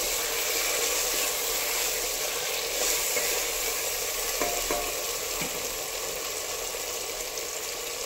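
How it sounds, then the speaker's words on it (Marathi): Pavta beans hiss and sizzle steadily in hot oil as they are stirred for biryani-style pavta rice, with a few soft utensil taps partway through. The frying is close and continuous, with no voices. "पावटाही आपल्याला 2 ते 3 मिनिटं तेलामध्ये व्यवस्थित परतवून घ्यायचा आहे"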